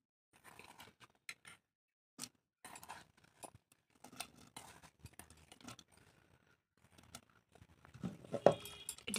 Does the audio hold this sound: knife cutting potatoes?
yes